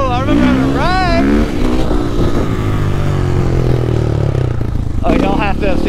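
Motorcycle engine revving loudly and steadily during a wheelie ride, a continuous close drone throughout with a rider shouting excitedly over it.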